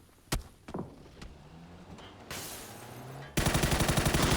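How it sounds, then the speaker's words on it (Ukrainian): Scattered gunshots ring out in a video game, then a rapid burst of automatic fire at the end, with the thin, processed character of game audio. "я кажу, що тут хтось стріляє"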